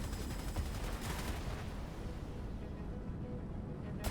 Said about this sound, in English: I assume our ship's going to automatically fire at it